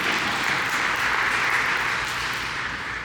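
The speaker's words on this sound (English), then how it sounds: "I need more claps on that one" Audience applause at a panel talk on LGBTQ organizations, an even, sustained round of clapping from a room of listeners that eases slightly toward the end.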